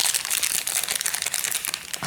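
A glassine envelope with lace trim crinkles steadily near the ear, a dense continuous crackle of thin paper handled for about two seconds without pause, alone with no talk.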